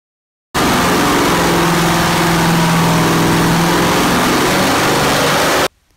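A GM LS 6.0L V8 with port heads, upgraded valve springs, an LS3 intake and a Holley ECU roars at full load on a dyno, a loud, dense, steady blast that starts abruptly and cuts off after about five seconds.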